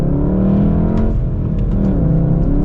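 A Volkswagen Golf R with a manual transmission accelerates hard, its engine a loud, close, steady drone that rises in pitch, dips briefly as if shifting gear, then climbs again.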